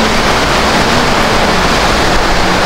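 Strong typhoon wind roars steadily and loudly beside a road during a super typhoon, a dense unbroken wall of rushing noise.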